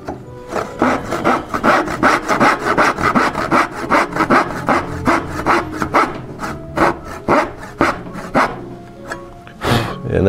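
A hand saw cuts a half blind dovetail in a wood drawer part, with close, loud, rhythmic back-and-forth strokes, about two or three per second, running steadily throughout with no talk.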